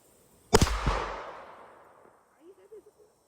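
A single gunshot rings out at an outdoor shooting range. One loud, close crack is followed by a long fading boom and echo, then a faint voice briefly afterward.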